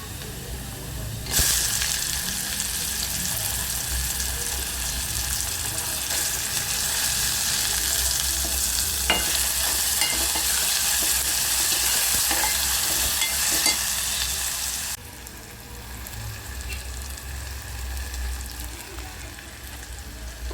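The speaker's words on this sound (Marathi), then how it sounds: "आपला मसाला पूर्ण भाजून झालेला आहे टॅमॅटो पण पूर्ण मॅच झाले शिजले पण" Masala with tomato roasting in a pan for matki usal, a steady loud sizzle with stirring that runs most of the clip, then drops to a quieter simmer near the end.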